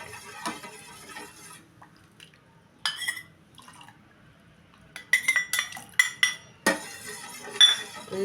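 Spoon stirring pineapple custard pudding in a pan as it thickens, with intermittent scraping and clinking bursts separated by quiet gaps, close and fairly light.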